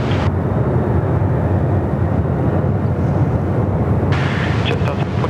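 A Jetstar airliner on its takeoff run from runway 34 right at Sydney Airport gives a loud, steady broadband engine roar heard from nearby, with wind buffeting the microphone.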